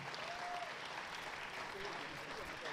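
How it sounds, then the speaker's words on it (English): An audience at the Forum Nigeria 2022 event claps for the military, giving steady, dense applause that holds evenly throughout and sounds somewhat distant and soft, with a voice faintly audible beneath it. "if we can just clap for the military for what they are doing for us"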